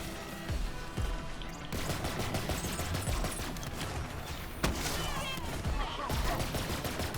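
Rapid gunfire from the video game Borderlands 3 pours out in dense, continuous bursts of shots and explosions, loud and busy throughout the clip.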